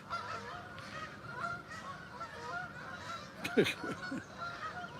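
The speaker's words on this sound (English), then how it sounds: "Lots of geese around here today," Geese honk repeatedly over a steady outdoor background at a fishing spot, with a louder burst of several close honks near the end.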